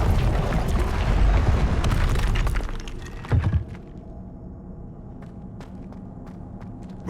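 An Incendio fire spell cast in Hogwarts Legacy bursts as a roaring, crackling whoosh that fades out, followed by a short sharp impact burst, then a quiet stretch with faint scattered clicks.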